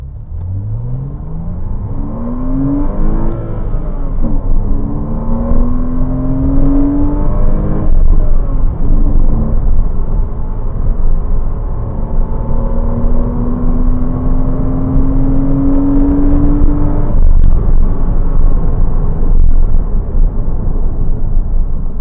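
A Porsche Cayman 987 engine revs up through several gears while driving, pitch climbing in long sweeps between shifts, loud and close with a steady mechanical drone.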